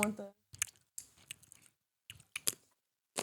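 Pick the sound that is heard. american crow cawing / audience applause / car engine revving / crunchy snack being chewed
crunchy snack being chewed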